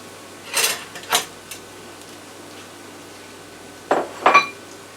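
Jasmine rice stir-fried with vegetables, Thai style and spicy, is plated up with a few light clinks of dishes and utensils, two brief taps early on and a pair of clearer clatters near the end, in a quiet room.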